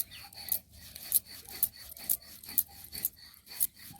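Chili and salt are ground together by hand, giving rhythmic gritty rasping strokes about twice a second, close up and steady with no talk.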